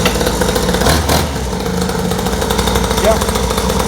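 A small pocket quad engine idles and buzzes steadily at close range, a light, continuous two-stroke drone with a slight surge near the start, while someone talks over it.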